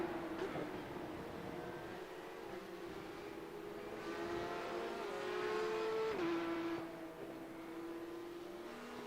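Porsche Cup race cars in the iRacing video game at Spa-Francorchamps, slipstreaming along the Kemmel Straight, engines droning steadily and rising in pitch, with a shift and a brief louder passing surge, without talk.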